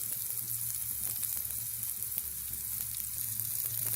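Curry leaves and green chillies sizzle with onions in hot oil during Uggani (puffed rice upma) preparation, a steady close crackling fry that holds throughout with no talking.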